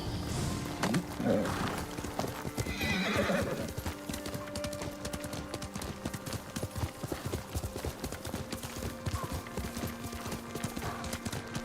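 Horse hooves clip-clop at a gallop in the Ghost of Tsushima video game, with neighs and whinnies near the start and a steady rapid rhythm of hoofbeats under game ambience throughout.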